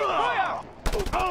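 Rapid gunfire bursts in the video game Just Cause 2, a quick rattling volley breaking in after a voice speaks over the game sound.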